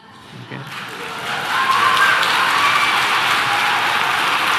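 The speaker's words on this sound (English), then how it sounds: "You're clapping for that? Really?" A debate audience bursts into applause. Scattered claps swell after a second into sustained, fairly loud clapping from a large crowd filling the hall.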